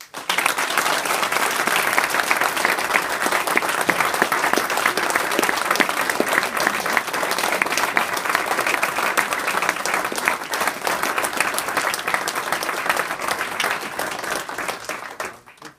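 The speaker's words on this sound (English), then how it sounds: "all of us here should give him a round of applause." An audience at a Royal Russell School event gives sustained, dense applause, many hands clapping steadily for about sixteen seconds at a loud, even level before fading at the end.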